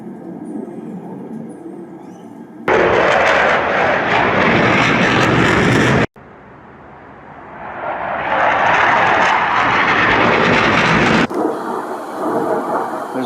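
Military jet roaring overhead at Brisbane Riverfire, a loud sustained broadband rush that swells, cuts, then builds again as the aircraft passes, with no talk.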